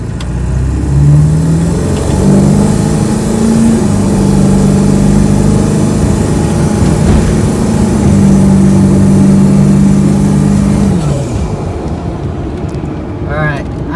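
A Ford 7.3 Powerstroke diesel truck with an Edge tuner pulls hard from a standstill, its engine droning loud and steady through gear changes, with a voice speaking over it from inside the cab.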